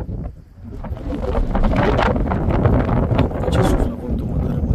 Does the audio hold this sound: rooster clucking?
no